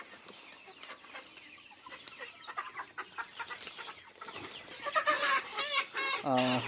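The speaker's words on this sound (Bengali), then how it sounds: "আর মুরগি ধরা হচ্ছে" Sonali chickens cluck and squawk as birds are caught for loading at a poultry farm, a busy close flurry of clucks and flapping that grows louder toward the end with a sharp squawk, faint voices in the background.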